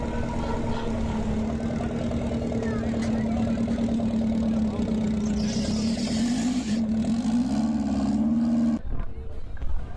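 A Peugeot 206 turbo with a large intercooler idles at a drag racing event in Tabriz, holding a steady, close engine hum that wavers briefly before cutting off near the end.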